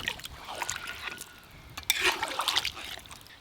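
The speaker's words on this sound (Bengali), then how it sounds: "মাংস আর আলু একসঙ্গে ভালো করে কষানো হয়ে গেছে। এবার জল দিয়ে দেবো।" Water pours into a pot of chicken and potatoes cooked down for curry, a close splashing trickle that builds toward the end of a short burst, with no talking.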